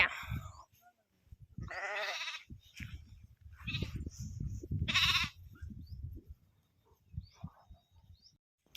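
Sheep bleat repeatedly while grazing among thorny scrub, several loud, close, wavering calls separated by short quiet gaps.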